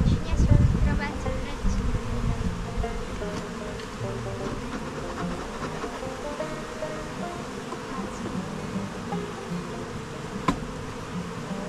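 Honey bees buzz densely around an open hive on a warming day, a constant close swarm drone with a louder burst at the start and some faint talk in the background.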